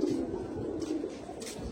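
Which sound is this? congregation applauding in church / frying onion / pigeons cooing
pigeons cooing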